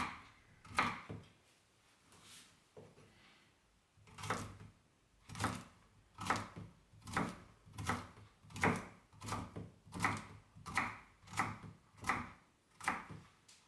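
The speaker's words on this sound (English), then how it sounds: "Then dice the celery root as well." A knife dices celery root on a cutting board, steady evenly spaced thuds after a short pause, close and fairly loud.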